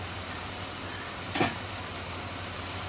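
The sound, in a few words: tengra fish being added to the pan, sizzling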